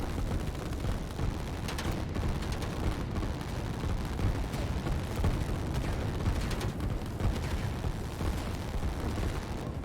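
Artillery and gunfire from the strategy game Line War thud and crackle continuously as a dense, fairly quiet barrage of overlapping booms and pops with no voices.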